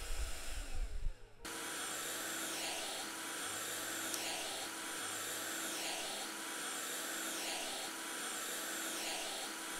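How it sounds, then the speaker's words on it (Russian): Vacuum cleaner from the video game House Flipper used for cleaning a window, a steady loud whirring drone that starts abruptly after a brief opening burst and holds alone to the end. "Это надо вот этой пылесосилкой."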